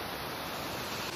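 Water spilling down from a height near Marleshwar Temple makes a constant broadband rush, even and unbroken, with no voices over it.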